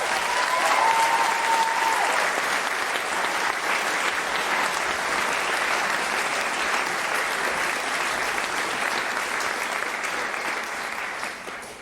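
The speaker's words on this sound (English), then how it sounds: "The applause and ovation express it." Sustained, dense audience applause and ovation after a school production of The Addams Family musical, loud and steady throughout, with a faint whistle early on and a slight fade at the end, no talking.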